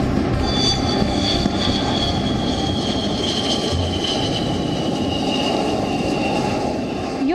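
Indian Air Force fighter jet making a low flypast and touchdown on the Purvanchal Expressway, a loud, continuous engine roar with a slowly falling whine throughout.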